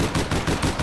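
Rapid automatic gunfire in APB Reloaded, short repeated bursts of shots pulsing close and loud with no talking.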